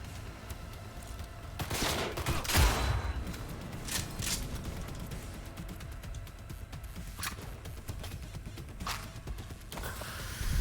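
Bursts of gunfire in the Cyberpunk 2077 video game, a sharp volley near the start followed by scattered shots at varied distances over a continuous low rumble of combat.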